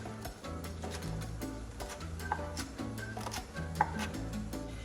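A knife dices Anaheim peppers in a quick run of crisp, close chopping taps with an uneven rhythm, heard over steady background music.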